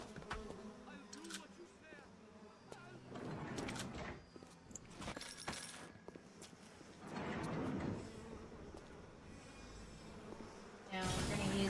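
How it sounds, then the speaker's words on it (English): Swarming bees from the video game BioShock buzz steadily through most of the stretch, rising in loud surges, with scattered clinks and game effects in the background and no talk. "wait for the bees to go away"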